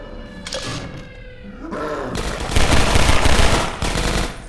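Weapon fire in Half-Life 2 Episode One, a loud rattling burst of rapid shots in the second half with growling creature-like effects earlier.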